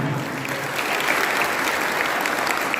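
Audience applause at a Govardhan Pooja festival, a dense steady wash of many hands clapping together, loud and sustained throughout with no voices above it.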